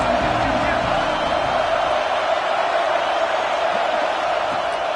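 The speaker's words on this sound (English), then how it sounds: "This Auburn crowd trying to conjure up a little magic here on 3rd down." A steady roar of a stadium crowd at an Auburn college football game in a video game, a dense continuous wash of cheering noise with no distinct voices on top.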